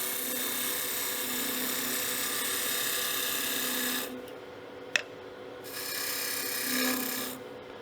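A skew chisel cuts a box tenon on a spinning wood lathe, giving a steady, close scraping hiss with a brief pause, a sharp click, then more cutting.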